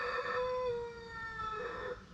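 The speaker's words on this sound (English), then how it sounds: "Exactly, Rooster." A rooster crows once, a drawn-out, wavering call that rises and falls, at a moderate distance with faint background noise.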